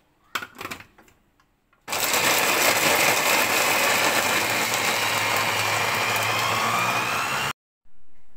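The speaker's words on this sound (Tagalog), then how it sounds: "ating makinarya sa kusina para mapabilis tayo ng ating pagpipino nitong ating mga ingredients sa ating lutuin" An electric kitchen chopper mincing pork and vegetable ingredients for bola-bola: a short clatter, then a loud, steady whirring drone for about five seconds that cuts off, followed by a brief restart at the end.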